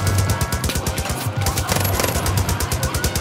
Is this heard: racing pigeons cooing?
no